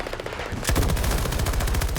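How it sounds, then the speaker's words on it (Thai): Rapid automatic gunfire from a weapon in the shooter game Battlefield 2042 bursts in after quieter game ambience, a dense, loud stream of evenly spaced shots continuing without pause. "ระยะไกลก็ยังยิงได้นะครับกระบอกนี้"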